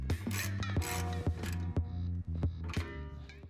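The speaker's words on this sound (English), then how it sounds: "Tighten the rear tank bolt if you haven't already" A wrench working a bolt on a Honda CB650R motorcycle, with rapid close ratcheting clicks and metallic mechanical chatter repeating in quick bursts.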